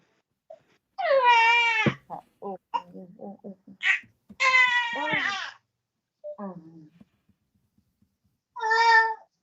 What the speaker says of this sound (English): Oh, your baby is crying.